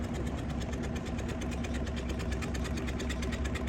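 A fishing boat engine on a river chugs steadily and loudly with a fast, even rhythmic knock, running throughout without pause.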